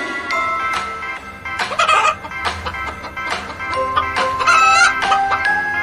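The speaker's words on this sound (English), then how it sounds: "H for hen." A hen clucks repeatedly in short, irregular bursts, close by, with rooster-like calls and other fowl noises mixed in.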